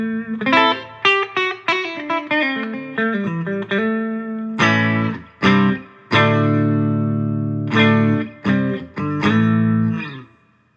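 Electric guitar with a humbucker pickup played through a Sound City Concord amplifier, clean tone with single notes, sustained chords and strummed stabs ringing out loud and close, each chord decaying in the room.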